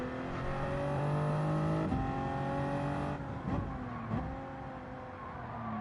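Race cars on the Daytona road course in Gran Turismo 7, engines revving high with rising and falling pitch through gear changes, several cars close together, loud and continuous with no talking.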